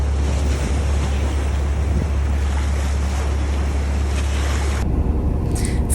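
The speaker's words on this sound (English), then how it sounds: "the waves were primarily coming from behind us, following seas" Ocean waves wash and roll past a sailing boat at sea, with a steady rushing surge, heavy low wind rumble across the microphone, and a brief drop near the end.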